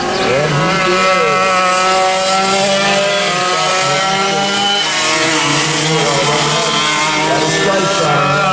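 Vintage foreign-powered sidewinder racing karts scream past in a pack, a dense, continuous high-pitched two-stroke whine with shifting overlapping pitches as several engines rev together, loud and close throughout.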